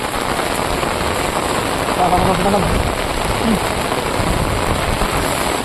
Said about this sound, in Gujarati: અહીંયા હવે વરસાદ આવી ગયો છે